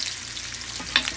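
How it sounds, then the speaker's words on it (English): Country breakfast frying in a cast iron pan gives a steady, close sizzling hiss with no voices, broken near the end by a brief sharp crackle. "You see that nice sizzle we're getting ready to get from that"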